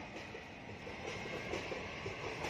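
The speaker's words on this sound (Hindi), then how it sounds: "और वहाँ से ट्रेन भी जा रही है।" A train rolls past on a railway track near a bridge, a steady broadband rumble with rhythmic clickety-clack of wheels, moderately close and continuous throughout, with no voices.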